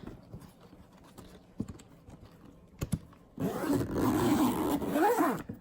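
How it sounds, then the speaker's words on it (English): A zipper being pulled closed on a VermiBag tote, a 10-gallon fabric worm-composting bag, heard up close as a loud, continuous rasping pull after a few soft handling knocks. "Zip it up"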